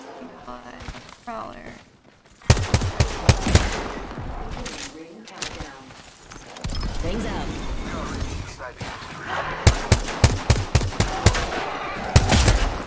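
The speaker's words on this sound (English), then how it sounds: "I just heard charge rifles" Charge rifle gunfire in a Fortnite match: repeated sharp shots in bursts and clusters, some close and loud, others quicker and lighter, with a person talking over much of it.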